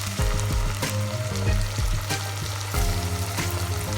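Baked beans hitting a hot frying pan for Ghanaian red red sizzle loudly and steadily, with the crackle swelling and settling in waves over a constant low hum, close and continuous with no talking.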